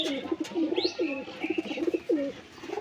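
A female pigeon, home-bred and close to laying eggs, gives a quick run of rolling coos close up, with a brief higher squeak partway through.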